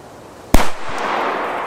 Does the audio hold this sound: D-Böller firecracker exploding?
yes